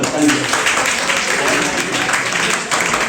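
Students in a school hall clap for a classmate during a motivational talk, a brief burst of mixed clapping running the whole moment at moderate loudness.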